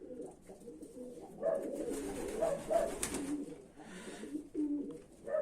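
Pigeons at a loft coo softly and repeatedly, overlapping low throaty calls at a moderate distance over a quiet background.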